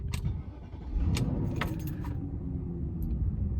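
A BMW 540i E39 starts up close by: keys jingle, then the engine catches around the one-second mark and settles into a steady, rumbling idle that continues to the end.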